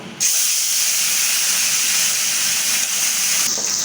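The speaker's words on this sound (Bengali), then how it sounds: "তেল গরম হয়ে গেছে আমি এখন মাছটা দিয়ে দেব" Bain fish going into hot oil sets off a loud, steady hissing sizzle that starts abruptly and holds for several seconds, close up, with no talking.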